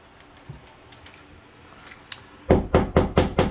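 Five sharp hammer taps in a steady rhythm ring out close by during a bathroom renovation, following a few quieter scattered clicks and knocks.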